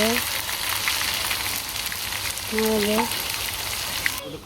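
Fish sizzling in a pan at a village kitchen, a loud, steady hiss of frying with faint scraping as it is stirred, while people talk briefly over it.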